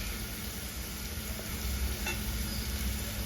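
Sliced onion browns in a pan with ginger-garlic paste for Nellore-style fish curry, an even close sizzle with a light stirring scrape partway through and no speech.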